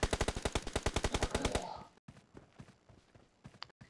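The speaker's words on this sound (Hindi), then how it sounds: "ये मशीन गन है इसके पास" Machine gun in PUBG Mobile fires a rapid, loud, evenly spaced burst of about sixteen rounds over a second and a half, then breaks off into quieter game noise with a few scattered clicks.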